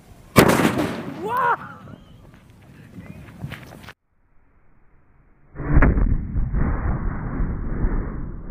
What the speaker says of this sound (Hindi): क्या धमाका हुआ